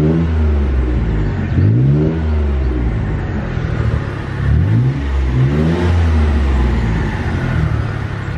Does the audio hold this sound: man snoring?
no